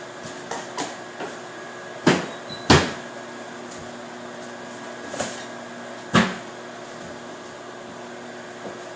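A kitchen microwave oven running while cooking sugar cookies, a steady mechanical hum with several sharp clunks and knocks scattered through it, no talking.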